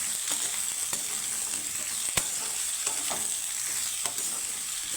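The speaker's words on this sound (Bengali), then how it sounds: "আমার তেলটা গরম হয়ে গেছে আর এখানে আমি কেটে রাখা পটলগুলো ভেজে নেব" Cut pointed gourd (potol) pieces frying in hot oil, a steady close sizzle with occasional clicks of stirring against the pan, no voices.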